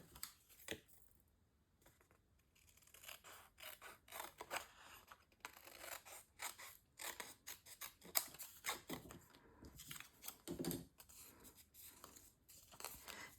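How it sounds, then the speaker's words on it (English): Scissors cut a paper cover sheet in crisp, close snips that come in irregular clusters, with quiet gaps and some rustling of the paper between the cuts. "I'm going to draw a line across here and cut this bottom portion off."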